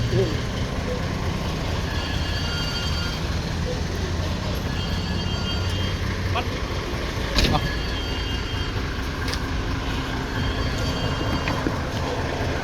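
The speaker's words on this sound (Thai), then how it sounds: "เสียงเครื่องนิ่มเลยตัวนี้" A bus engine idles steadily with a low, even rumble, with faint clicks and background noise around it.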